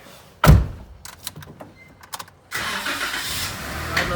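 A Jeep JK Rubicon is readied for a test drive. A sharp door thunk comes first, then a few scattered knocks and clicks, and the engine cranks and catches into a steady close idle for the final seconds.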